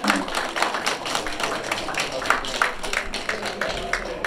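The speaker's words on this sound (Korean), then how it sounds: "오늘 박수로 한번 마치도록 하겠습니다." An audience claps together at the close of a 5.18 Democratic Uprising 44th anniversary ceremony in LA: a moderate, continuous patter of many hands heard from a short distance, with no talk over it.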